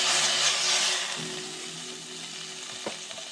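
Butter sizzling and frying in a hot pot while making Jamaican coconut curry shrimp, a bright continuous hiss that eases slightly, with a few faint clinks.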